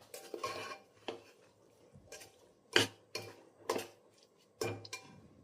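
A spoon or spatula stirs a spiced mixture with a little salt in a pan. It gives a handful of sharp scraping knocks at uneven intervals, close by over a quiet background, with no talking.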